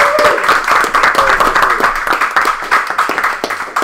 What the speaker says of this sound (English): And a round of applause for Chloe, who produces all of this